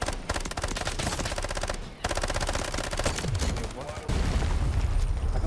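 Rapid automatic gunfire rattles in Delta Force Season 9, with dense bursts of shots and a brief pause, loud and continuous across the clip.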